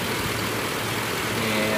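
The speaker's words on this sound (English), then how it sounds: "The car's hot, idling." A hot 2005 GMC Envoy XL with the 5.3L V8 idles right after a drive, a steady low engine hum running continuously throughout.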